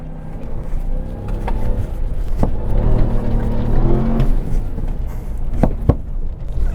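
A RAM TRX truck accelerating on a rally cross course, its engine roaring steadily and loud throughout, with a few sharp knocks and clunks over the rough ground.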